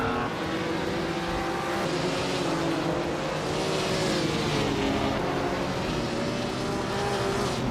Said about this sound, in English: The vintage cars are quite close in speed, but the track's tight corners favor the more agile Jaguars and Mercedes.